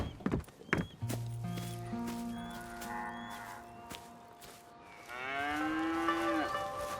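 Cattle moo on a farm in Red Dead Redemption 2, with a long low moo at first and a louder rising call near the end, heard alongside a few footsteps and clunks in a quiet rural setting.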